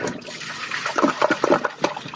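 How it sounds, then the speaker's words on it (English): A toilet flushes away chocolate syrup during a side-by-side test of toilets, with a sudden close rush of water that surges in uneven gurgling bursts and then swirls down. "Okay, so that's first flush for all of them."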